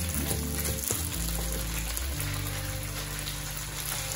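Chicken mince cutlets frying in a pan give a constant close sizzle and crackle over a low hum throughout, with no talk.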